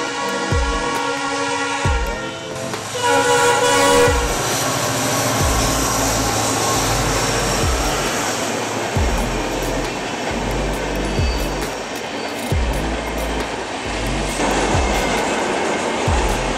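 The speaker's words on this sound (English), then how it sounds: "We're waiting for that train down there, which has got about 300 carriages behind it" A very long train hauling around 300 carriages rolls past at a crossing in India, a loud continuous rumble with rhythmic clickety-clack of wheels over rail joints and a sustained horn blast near the start.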